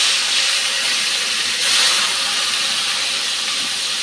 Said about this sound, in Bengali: মাছটা নুন হলুদ মেখে ভাজতে দিয়ে দিচ্ছি।